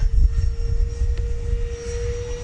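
A Freewing F/A-18C Blue Angels 90mm RC jet flies into a strong headwind at raised throttle, giving a steady, loud ducted-fan whine with a constant high tone over gusty rumbling wind noise, with no talking.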